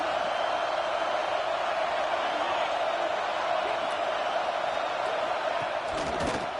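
A college football stadium crowd roars in a steady, dense wash of noise that fills the background, with a commentator talking over it.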